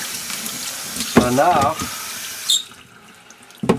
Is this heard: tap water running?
yes